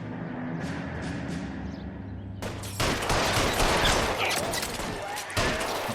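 Game gunfire in L.A. Noire erupts into a loud, dense fusillade of rapid shots after a quieter stretch, close and continuous with overlapping bursts and no speech in the foreground.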